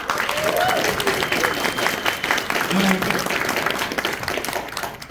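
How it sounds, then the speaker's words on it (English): Crowd at a pony convention applauds a guest, steady clapping and cheering throughout with brief voices mixed in beneath the noise. "Round of applause for Mitzi Reed, everyone."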